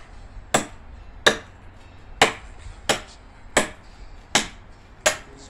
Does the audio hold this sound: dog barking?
no